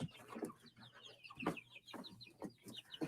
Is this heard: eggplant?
no